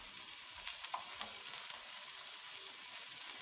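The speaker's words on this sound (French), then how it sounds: "Voilà, on va laisser mijoter un peu." Pork sauté in tomato sauce simmering in a pan, a steady soft bubbling hiss with a few faint pops, close and quiet, no voices.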